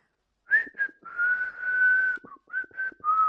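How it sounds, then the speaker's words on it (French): A person whistles a short tune nearby: a few bright chirping notes, then a long held tone, then several more quick notes. It is clear and close, with no talking. "Je siffle."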